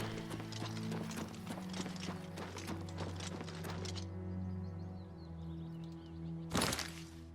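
Rhythmic clip-clop of horse hooves trotting at a steady pace over a low hum in the video game Elder Scrolls IV: Oblivion Remastered, stopping partway, followed by a short burst of noise.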